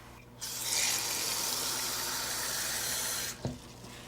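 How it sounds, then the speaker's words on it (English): Water gushes steadily from a tap into an empty soup can for about three seconds, a bright hissing pour that starts and stops abruptly, ending with a small splash or clunk, with no voices. "Put your finger over the hole and fill the can with water."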